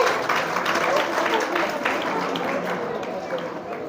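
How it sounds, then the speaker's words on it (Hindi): A crowd of railway workers at an International Women's Day event claps continuously in a dense, even patter that stays fairly loud throughout. "जोरदार तालियां बजती रहे।"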